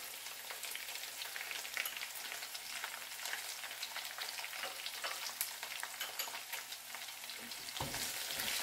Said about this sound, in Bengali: পেঁয়াজ কুচি দিয়ে আমি একটু উঁচু জালেই এটাকে 1 মিনিট মতো ভেজে নেব